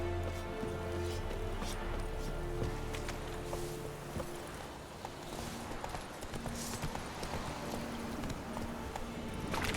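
A horse gallops in The Witcher 3 video game, its hooves clip-clopping in a quick, steady rhythm throughout, close and clear over faint ambient game sound.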